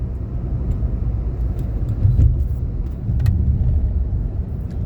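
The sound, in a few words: PTCL company vehicle passing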